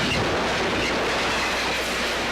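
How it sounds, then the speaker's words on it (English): A passing train rumbles close by, with a loud, continuous roar of wheels and rail carriages and faint clickety-clack throughout, and no talking. "What does that sound? Yeah, that's the train."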